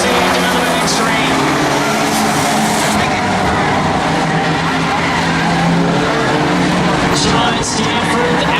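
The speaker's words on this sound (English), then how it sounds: "Sean Stanford and the number 8 out in front trying to pull away from Percival." Race cars running on a track make a continuous loud roar that fills the whole stretch, under steady commentator speech.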